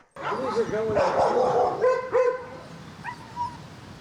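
Several service dogs at a shepherd-dog kennel barking and yipping close by, overlapping excitedly, with some whimpering and a voice speaking underneath.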